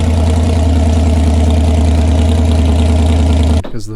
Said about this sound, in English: I threw our flat bottom boat headers on it just to start it on the stand